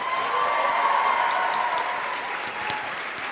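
A convention crowd gives sustained applause for a keynote speaker, a dense, even roar of clapping that holds steady throughout without pause.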